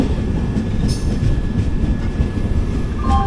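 Passenger train rolling into a station platform on the Kondaveedu Express route, loud continuous wheel rumble and clatter with faint squeals and a short high screech, no voices.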